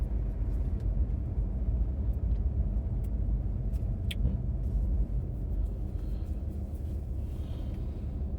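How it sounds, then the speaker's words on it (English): Night city traffic in downtown Montreal rumbles steadily from inside an Infiniti Q50 Red Sport, a low continuous road and engine drone with faint scattered clicks above it. "Why there's so much traffic."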